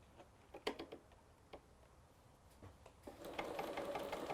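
A sewing machine stitches a zigzag while machine tying a quilt, first in short separate bursts of clicking needle strokes, then running steadily and louder in the final second and a half, with no talk.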